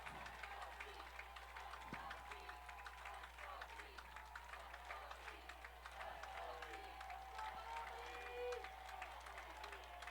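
A home football crowd at a high school game between Hudson and Menomonie, on their feet cheering and clapping from a distance, a broad steady roar with scattered shouts under a low constant hum.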